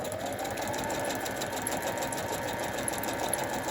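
A sewing machine runs a straight stitch close to the edge of a junk journal page, a steady, close, continuous mechanical whir with a fast needle rhythm and no pauses.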